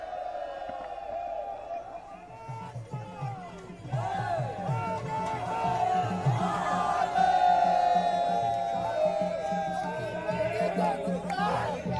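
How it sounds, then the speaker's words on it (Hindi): Crowd noise at the Prime Minister's rally in Varanasi, with a dense murmur of many voices and some cheering. It swells and stays loud from midway on, while a public-address voice carries over the top. "रैली में खूब भीड़ है।"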